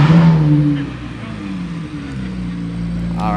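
Corvette Z06 and McLaren 600 drag racing, engines droning loud and close with falling, sweeping tones that settle into a steady roar, shouting voices briefly over the start.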